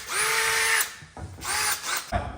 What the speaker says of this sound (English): So I'm going to drill this one.